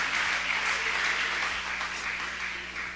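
Church congregation at a worship service applauding, giving the Lord a loud round of applause as a steady, even wash of clapping with no speech over it.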